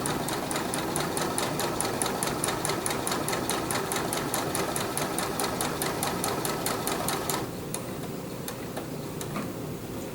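A sewing machine stitches binding strips together, a rapid, even run of needle ticks up close that slows and thins out for the last few seconds.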